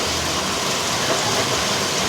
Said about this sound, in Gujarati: આજે ફાઇનલી વરસાદ આવી ગયો છે. ફાઇનલી આવી ગયો છે